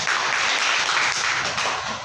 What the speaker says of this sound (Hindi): सही उत्तर है, तालियां बजाओ